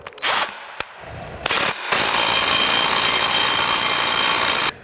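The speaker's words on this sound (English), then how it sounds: "and we're going to tighten these down." A power tool drives bolts into the base of a TracRac TracONE truck rack. Two short whirring bursts are followed by a longer, sustained run, loud and close, with no talking.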